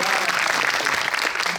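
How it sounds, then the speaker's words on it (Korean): A theater audience at a film society talk in a cinema hall bursts into brief applause, a dense burst of many clapping hands, loud and steady, ending abruptly. "박수"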